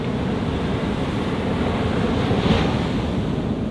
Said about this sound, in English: Now, the waves, I think the waves are like, perfect.